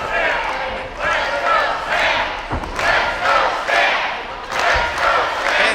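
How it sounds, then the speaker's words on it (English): Crowd in a high school gym at an independent pro wrestling event chanting a wrestler's name, rhythmic loud chant in repeating bursts with a couple of dull thuds from the ring, echoing in the hall. "it is deafening here in Berkshire High School, chanting Stamp's name"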